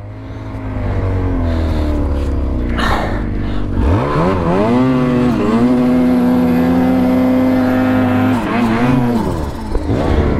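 Snowmobile engine with a chaincase fault bogging, a deep rumble that stumbles, then a wavering, straining whine rising and falling as the motor labors unevenly, loud and close without talk.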